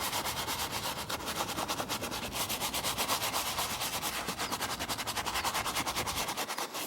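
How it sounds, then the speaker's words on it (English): Leather saddle scrubbed in circular motions with a brush: steady, close, rhythmic rubbing and scratching strokes repeating continuously at even volume, with no talk. "I find it works best when you scrub a saddle to go in circular motions."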